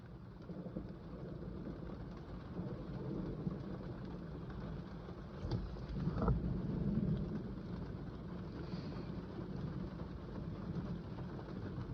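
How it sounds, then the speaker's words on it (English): Thunder rumbles low and distant through a steady hiss of heavy rain during a severe thunderstorm, swelling briefly around the middle before settling back into the constant downpour, with no talking. "And not that much of a thunder. There it goes."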